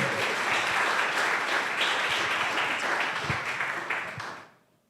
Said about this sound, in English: Round of applause for Mwihaki.